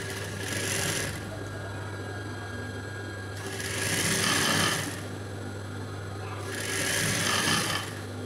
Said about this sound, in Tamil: அடுத்து இடுப்பு பகுதி மடித்து தைச்சிட்டோம்